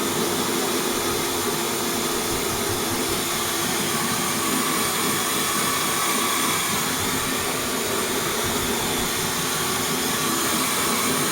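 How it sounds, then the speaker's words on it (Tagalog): A new pet dryer blows air over a cat during a bath, making a continuous, even, fairly loud whooshing hum that holds steady throughout with no voices. "Ganda ng dryer na bago. Hindi siya maingay."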